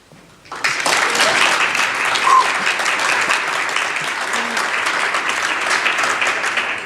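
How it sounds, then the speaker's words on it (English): A conference audience applauds loudly and steadily for a speaker after a brief quiet start, the clapping sustained throughout. "he is really deserving a big applause"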